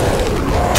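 A Molotov cocktail bursting in Left 4 Dead 2: one loud, close, booming whoosh that sustains through the short moment with a heavier thump at the end.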